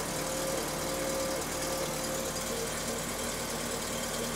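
Turbocharged 1986 Toyota MR2 engine idling, a steady, even mechanical hum with faint vibration and no revving, moderately quiet throughout.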